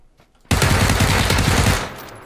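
Rapid automatic gunfire in PUBG, a dense burst of close, loud shots lasting over a second before trailing off, following a quiet lead-in.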